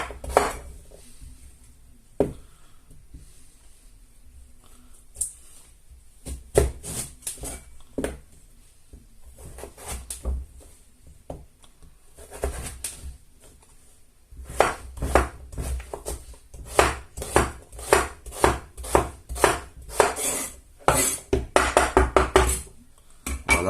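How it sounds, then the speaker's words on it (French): Sweet potatoes cut into small pieces with a knife, heard as bursts of sharp, close taps and clacks of the blade on a board and dish, quiet pauses between runs of rapid cuts. "On va les couper en petits morceaux pour faire la purée."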